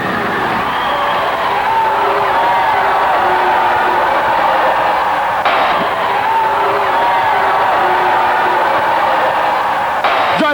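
A sports crowd at the Jogos Abertos do Paraná in Campo Mourão cheers a victory, a dense continuous roar of shouting and whooping voices with occasional slams, loud and unbroken throughout.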